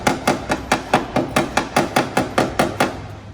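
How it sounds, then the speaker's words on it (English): Hammers knock down buckles in a car body panel, striking about fifteen sharp metallic blows in a steady, quick rhythm, close and clear with no talking. "We are teaming up, taking our hammers to the buckles once again."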